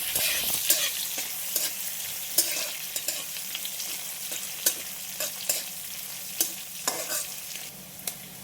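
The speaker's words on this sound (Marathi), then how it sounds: "हिरवी मिरची घालून घेऊ आणि त्याला छान परतून घेऊ" Green chilies sauté in a pan, a quiet constant sizzle punctuated by regular sharp scrapes and taps of a spatula turning them, heard alone and up close.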